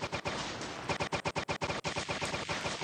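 Weapons on battle robots firing in War Robots, a rapid series of about a dozen sharp, evenly spaced shots after a softer opening, loud and close with no talking.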